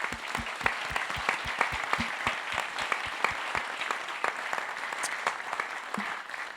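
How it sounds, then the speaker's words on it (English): Applause from a modest audience at a candidates' debate, with individual claps standing out in a quick uneven rhythm over a softer spread of clapping. "Let's give them a round of applause"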